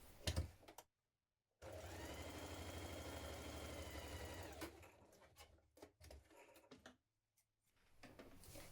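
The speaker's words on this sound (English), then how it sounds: "Now sew the front lining to the back lining at the side seams." A sewing machine stitches winter coat lining pieces together at the side seams, a close steady motor whir for a few seconds, then short bursts and stops with handling noises between.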